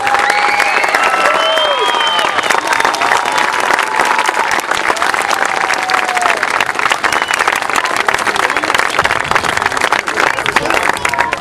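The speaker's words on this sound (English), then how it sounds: "I've been told one more final round of applause for all our volunteers here." A crowd at a Little League opening day in the Village of Babylon gives a sustained round of applause for volunteers, loud and dense, with cheers and whistles rising over the clapping throughout.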